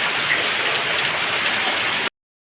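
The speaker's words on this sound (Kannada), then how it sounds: "ಹೊರಗೆ ಮಳೆ ನೋಡಿ ಎಷ್ಟು ಜೋರು ಮಳೆ" Heavy monsoon rain pours down outside, a dense continuous hiss of drops drumming on surfaces, steady and fairly close before cutting off abruptly.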